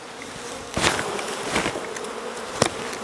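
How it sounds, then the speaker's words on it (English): Honey bees are shaken and tapped off hive frames during an inspection. A dense buzzing swarm hums close by, broken by a few sharp knocks as the frames are jarred, with no voices. "turn away from where you're working and just shake the bees away, tap them off"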